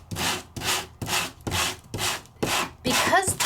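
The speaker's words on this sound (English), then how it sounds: "But can we sand it?" Sandpaper is rubbed across glitter-covered specialty paper that has been glued down, making six even, rhythmic scratchy strokes at a steady pace, close and clear.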